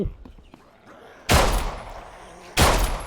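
In the video game HumanitZ, two sharp, loud bursts of gunfire ring out about a second apart, each with a short decaying tail, after quieter clicks and rustling.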